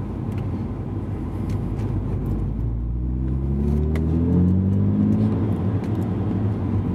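A car drives on the Nordschleife, its engine rumbling low and steady throughout, with a rising, revving note building from the middle onward as it accelerates.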